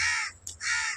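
Two loud, close crow caws, each harsh and drawn out, separated by a brief gap with a short squawk between them, alone with no talk.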